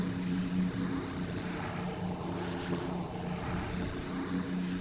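B-24 Liberator propeller bomber climbing just after takeoff in a flight simulator, a steady, droning multi-engine roar that holds an even level throughout with no voices.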